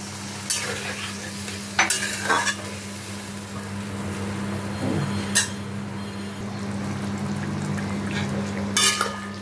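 Aloo dum cooking in a pot on a gas flame with water just added, steady bubbling sizzle under a constant burner hum, broken by a few sharp scrapes and knocks of a spoon stirring against the pot.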